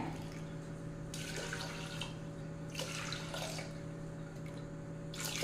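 Water is poured from a cup into a cooking pot holding chana dal and millet rice for pongal, a faint splashing trickle that comes in several short bursts against a steady background hum.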